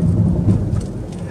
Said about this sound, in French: Par contre il commence à pleuvoir.